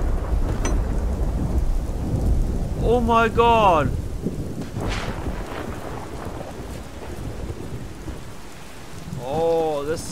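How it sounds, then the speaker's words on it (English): Rain pours steadily with low rumbling thunder in a stormy scene from the video game Generation Zero, loud and continuous throughout, while a man briefly exclaims over it. "thunder."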